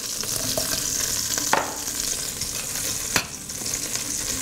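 Onions hit hot oil in a pot and sizzle steadily for an Indian-style beef bourguignon, with a couple of sharp spoon scrapes as they are stirred and coated.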